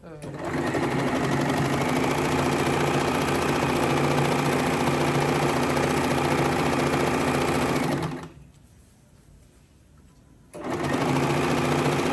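A sewing machine stitches the edge of a saree, its steady mechanical whir running loud and continuous for about eight seconds, stopping briefly, then starting up again.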